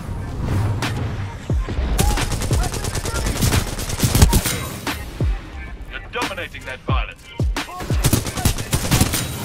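Gunfire from Titanfall 2, including shotgun blasts, fires in dense bursts and rapid volleys throughout, loud and close, with excited players talking over it.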